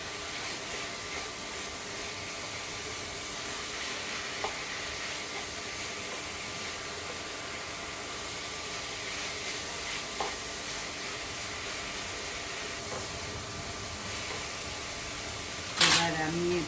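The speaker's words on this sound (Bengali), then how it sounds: "এবার চিকেন কিমাটাকে ভালো করে ছড়িয়ে এটার সঙ্গে মিক্স করে নেব" Chicken mince being spread and stir-fried in a pan makes a steady, even sizzle with faint scraping from the stirring, and a sharp clatter near the end.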